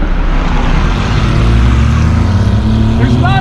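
A 1991 Honda Beat kei car's three-cylinder engine with drive-by-wire throttle and individual throttle butterflies revs hard toward 8,500 RPM, a loud, steady, buzzing drone heard from inside the car, with a voice speaking over it.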